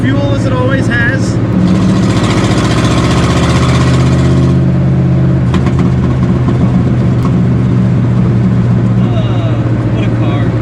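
A 1979 Pontiac Firebird Trans Am with a manual transmission runs loudly up close, its steady low engine drone and harmonic hum filling the scene, with a brief rise in pitch early on and people talking over it.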